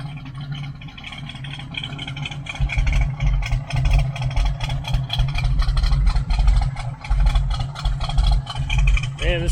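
A 1970 Camaro project car's engine idling, running a little rich, with a steady low rumble that grows louder and rougher partway through as it keeps running close by.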